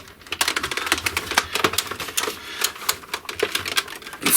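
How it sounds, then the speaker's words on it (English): A ratchet joint in the leg of a big, heavy Transformers DX9 D-12 Gabriel robot figure clicks as the leg is forced, a close run of rapid, uneven plastic clicks and ticks. "It sounds like it kind of has a ratchet"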